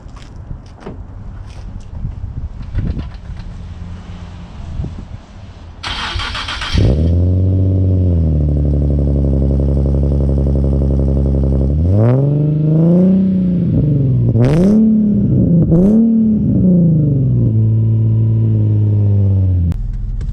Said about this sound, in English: But before we drive, let's hit that cold start.